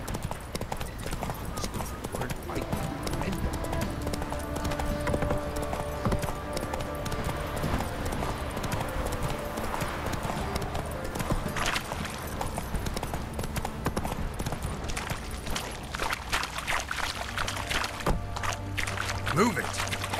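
A horse gallops in The Witcher 3, its hoofbeats steady and prominent for the full stretch, with game music and a voice running underneath.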